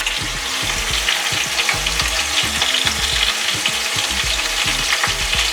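Chicken fries slowly over a low flame with a steady, dense sizzle and crackle close by, while a utensil stirs it in a regular rhythm of low knocks against the pan, with no talk.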